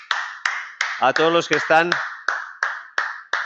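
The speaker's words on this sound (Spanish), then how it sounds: "Vamos a dar un aplauso" Sparse, evenly spaced hand claps from a few people during a live trading webinar, each sharp and close, with someone speaking Spanish over the middle of the claps.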